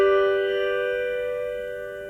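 A dominant V triad sounds on an electronic keyboard and holds for about two seconds, its stacked steady tones gradually decaying. The chord plays by itself with no voices.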